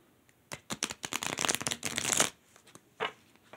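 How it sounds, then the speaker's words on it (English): A deck of cards is riffle shuffled close up, a quick fluttering burst of snapping cards, followed by a few soft taps as the deck settles. "Let's riffle shuffle these."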